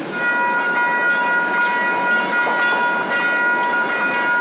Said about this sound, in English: The westbound train is now arriving.